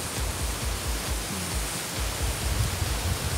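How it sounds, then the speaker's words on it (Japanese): Wind buffeting a microphone outdoors in a hotel garden, a continuous rough rumbling roar with gusty low thumps, loud and close, no voices. "風の音がやばそう。"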